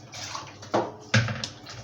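Water poured into a cooking pot while preparing Nigerian fufu, a short splashing pour with a couple of louder gushes, close and fairly loud.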